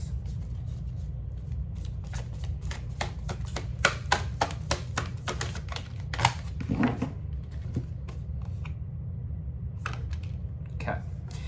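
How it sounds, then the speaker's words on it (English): Oracle cards being shuffled and pulled by hand, producing a fast run of crisp riffling flicks and snaps that thins out into scattered card taps, close up over low background noise. "Just pulling some oracle cards here."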